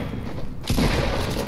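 Gunfire in the video game Fortnite: a sudden loud burst of shots kicks in partway through and keeps going as a dense, sustained volley.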